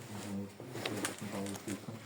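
Pigeon cooing inside a house, a low repeated throaty coo in a soft rhythmic pattern, heard close by with quiet voices in the background.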